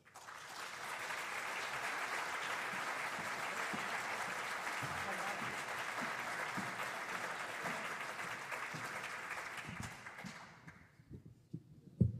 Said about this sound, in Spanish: para que vos pido un fuerte aplauso